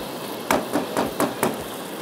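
A spatula stirs and knocks mutton mince with black pepper in a pan over a high flame to dry it, giving five sharp, evenly spaced metallic taps over a low background hiss, with no talking.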